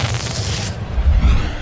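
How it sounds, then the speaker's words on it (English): Fireworks in the OOTP baseball video game go off as a broad, crackling burst that fades into a deeper, rolling boom, heard alone. "Some delayed fireworks."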